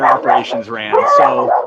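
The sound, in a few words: dog barking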